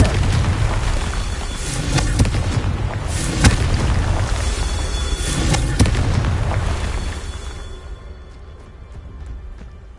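Confringo spell explosions in the video game Hogwarts Legacy make a loud, sustained rumble of booms and crackling blasts with sharp pops at intervals, then fade to a quieter tail near the end, with no speech.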